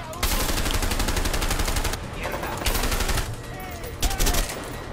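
Sustained automatic gunfire from shooting enemies in the action game A Way Out, loud and almost unbroken rattling fire with brief dips and a sharp extra burst near the end.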